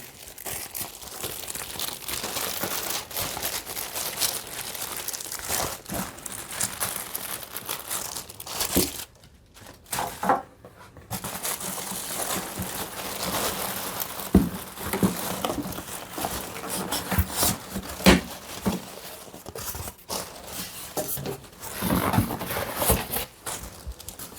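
Packaging for an Epson L3250 ink tank printer crinkles and rustles as the box is opened, with irregular crunching, tearing and plastic-handling noises close by and a few brief pauses, and no talking.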